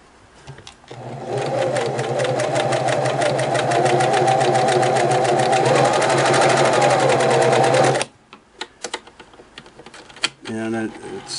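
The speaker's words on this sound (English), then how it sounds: "Let's go in here and do some zigzag." A Singer Model 353 Genie sewing machine stitches a zigzag pattern with a steady, rapid mechanical whir lasting about seven seconds, then stops, leaving a few faint clicks and handling noises.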